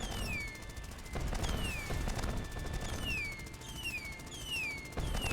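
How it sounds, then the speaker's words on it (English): Mortar fire in the video game 1 Million Zombies rumbles as a continuous barrage of overlapping booms, with descending whistles and repeating high tones layered over the blasts. "So here we have mortars"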